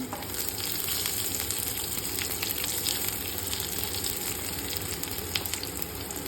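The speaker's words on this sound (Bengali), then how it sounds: "পেস্ট করে রাখা আমি রসুন কুচি এর মধ্যে দিয়ে দিলাম।" Chopped garlic paste dropped into hot oil for a rajma curry, giving a steady, close, bright sizzle with faint stirring scrapes, continuous and unbroken.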